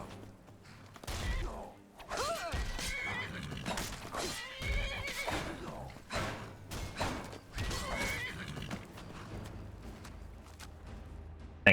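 Horse neighing and whinnying in the Skyrim video game, several loud whinnies amid hoof clip-clop and game sound effects, with no talk.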